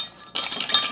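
Ice cubes clinking against a container as cold water is stirred for tart pastry dough, a short burst of close, bright rattling taps after a quiet start.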